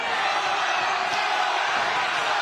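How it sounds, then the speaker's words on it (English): Boxing crowd at Thunder Studios in Long Beach roaring during a main event, a dense continuous wall of cheering that stays loud and even throughout. "This crowd going absolutely nuts. It is deafening inside Thunder Studios in Long Beach."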